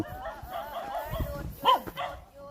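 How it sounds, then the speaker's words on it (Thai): Dog barking somewhere in deep forest in Thailand, a few short barks and yips mixed with people talking nearby, fairly faint and partly under the voices. "เลิกเห่าได้แล้ว มาเป็นมิตรเด้อ"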